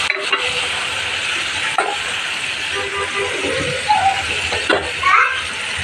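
Vegetables tossed into a hot pan in a home kitchen sizzle steadily while being stirred, with a few scraping bumps and faint voices of children in the background.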